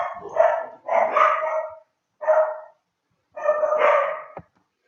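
Dogs bark in separate close, loud bursts, the first two in quick succession, then a short single bark and a final longer volley ending in a sharp click, with silent gaps between them.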